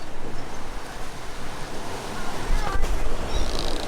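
Ocean waves and wind rush steadily past a sailboat making 9 knots on a long passage, a broad constant wash with a brief surge of spray near the end.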